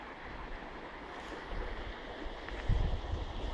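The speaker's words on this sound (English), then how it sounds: "The San Marcos River." The San Marcos River rushes beneath a low bridge, a steady broad wash of flowing water close by, with a slight surge near the end.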